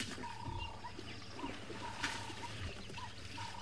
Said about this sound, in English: And all the birds making a noise up ahead as well.